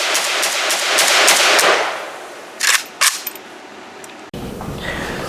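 Rifle shots from a Saiga 308 and a Molot VEPR 308 crack at an outdoor range, a rapid string of sharp reports followed by a few separate louder shots.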